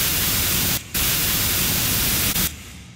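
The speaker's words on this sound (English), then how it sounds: "The very first thing that I did is I added some low end using our computer duster." A can of computer duster blows compressed air in a loud, steady broadband hiss, with two brief cutoffs, used as a low-end layer in a sword-slash sound effect.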